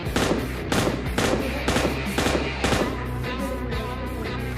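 Gunfire in PUBG Lite while shooting at two enemies, loud rapid bursts of automatic shots in a steady, roughly even rhythm, close and dense over continuous game noise.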